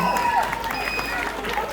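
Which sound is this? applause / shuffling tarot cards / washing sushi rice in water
applause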